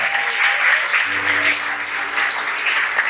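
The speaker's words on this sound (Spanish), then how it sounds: "Le podemos dar un fuerte aplauso a Él en esta hora." A church congregation gives steady applause during a sermon service, with sustained tones, likely music, underneath and a raised voice near the start.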